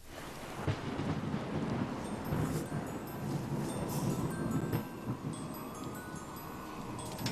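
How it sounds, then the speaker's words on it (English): Deep thunder rolls on without a break through a storm, loud and close, with a broad rumbling roar that swells and fades over steady rain. "why is it thundering this time of year?"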